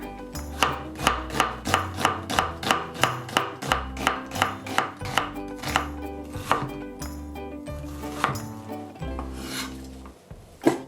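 A knife chops vegetables on a cutting board in a home kitchen, a steady run of crisp, evenly spaced thuds, close and clear, slowing slightly toward the end.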